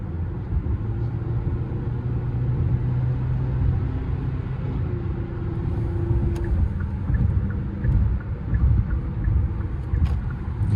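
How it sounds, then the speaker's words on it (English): 2023 Hyundai Santa Cruz SEL accelerating mildly up a highway on-ramp, a loud continuous low engine and road rumble with wind noise, rising gently in intensity from inside the cabin. "Give you guys a little bit of a highway driving clip here with mild acceleration on the on-ramp"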